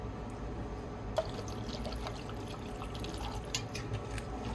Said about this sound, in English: we're gonna start with 2 ounces of tequila